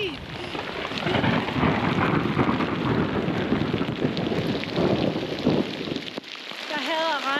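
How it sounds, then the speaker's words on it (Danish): A hail and rain shower pours down with rumbling thunder, a dense, loud wash of pattering and roaring that continues steadily, and a voice speaks briefly near the end. "Altså 10 minutter senere så havler det."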